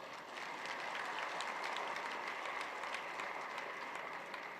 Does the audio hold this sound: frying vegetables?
no